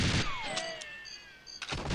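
Gunfire from a piercing weapon in the 1997 video game GoldenEye 007, shooting through crates in a jungle level: a loud burst of shots at the start, a ringing tail with a falling tone, then another loud burst near the end.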